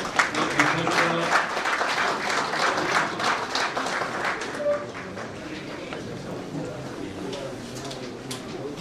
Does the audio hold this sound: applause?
yes